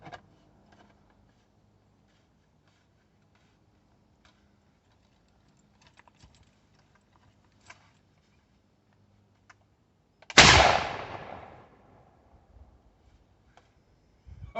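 A bigger-chamber homemade potato cannon firing on a fuel and air mix: one loud, close blast with a short decaying roar after near silence broken only by faint clicks and taps.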